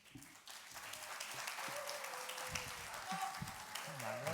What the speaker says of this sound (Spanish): un aplauso a Manuel Sáenz de Heredia